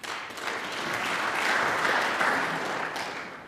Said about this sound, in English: And this Barbican crowd giving a round of applause there.